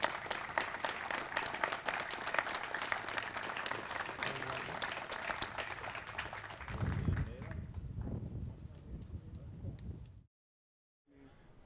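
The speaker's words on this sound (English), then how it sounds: "let's also give a special round of applause for a very" An audience at a recreation center dedication ceremony gives a steady round of applause that carries on for several seconds, then thins out and drops into brief silence near the end.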